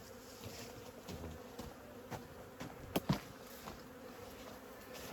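Honeybees from a swarm colony brought in from Lyubotyn hum steadily and closely as their hive is opened for inspection after the nectar flow ends, with a few brief knocks and louder bursts mid-way and no talking.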